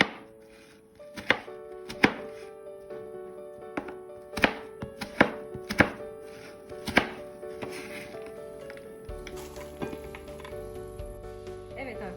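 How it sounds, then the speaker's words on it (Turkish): A knife chops cake into cubes on a board in sharp, irregular strokes, about a dozen cuts spaced apart, with a faint hum underneath. "3 paket halleylerimizi küp küp doğrayalım."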